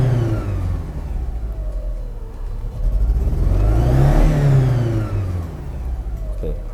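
A VW Passat GL engine runs during a test after a distributor repair, a steady close mechanical hum that swells in a smooth rev rise and fall midway before settling back.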